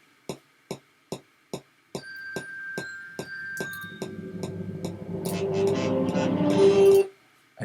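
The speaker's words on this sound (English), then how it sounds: "So you can hear that the click is coming through as well." A click-track metronome ticks in a steady, evenly spaced pulse, alone at first and then continuing under a theatre-show backing track played back in Logic Pro X. The music swells and grows louder before cutting off.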